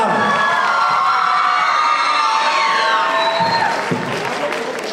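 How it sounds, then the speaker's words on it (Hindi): A crowd at a school association oath ceremony cheers and applauds loudly, with whoops and shouts rising over steady clapping throughout. "आपकी भरपूर तालियों में"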